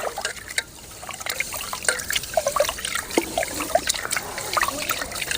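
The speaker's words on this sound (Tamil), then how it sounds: "நல்லா தண்ணி ஊற்றி சுத்தம் பண்ணி எடுத்துக்கலாம்." Water poured and swirled over raw rice in a bowl for rinsing, a continuous close trickle with small splashes and drips, with a voice talking over it.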